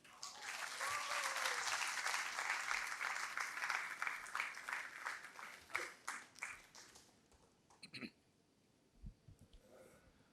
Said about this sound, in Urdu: آپ کی بہت ساری تالیاں